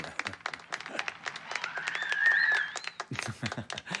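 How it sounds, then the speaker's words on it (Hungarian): Scattered clapping from a small audience for child actors, with sharp individual claps, a whistle-like tone cutting through midway, and a denser burst of claps near the end. "Nagy tapsot kérek a mi kis színészeinknek"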